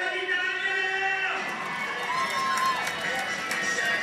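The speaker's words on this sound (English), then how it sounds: "And of course the crowd is cheering." Crowd cheering at a speed skating 3000 m relay final, a loud continuous roar of voices with whistles and shouts, a commentator's voice layered over it.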